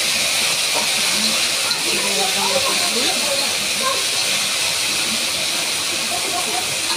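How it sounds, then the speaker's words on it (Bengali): Okra fries in a pan with a loud, continuous close sizzle and hiss, and a voice talks briefly over it. "তো দেখো এখানে আমি ঢেঁড়স ভাজে করে নিচ্ছি"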